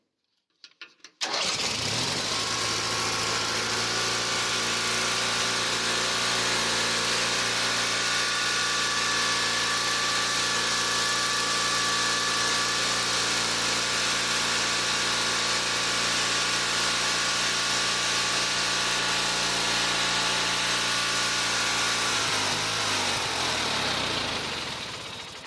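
A Craftsman 917 riding mower with a bad ignition switch, started by jumping the solenoid posts, fires up abruptly, runs loud and steady nearby for over twenty seconds, then winds down and cuts off.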